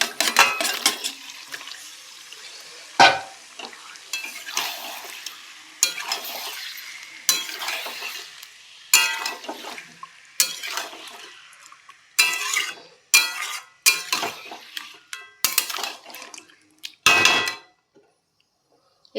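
Marinated chicken going into cooked masala in a hot pan, stirred with a spatula: repeated loud scraping strokes and clanks in bursts over a sizzling fry, with quiet gaps between.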